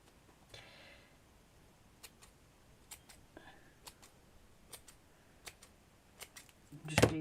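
Scissors snip through chiffon fabric while a flower is cut out, giving a steady series of light, faint clicks about every half second, ending in a louder handling rustle.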